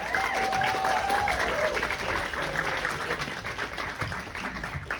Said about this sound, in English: Round of applause for Owen.